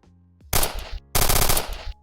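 Pistol fire in the Zimension game engine comes in two loud rapid bursts of close, sharp shots, separated by a short pause.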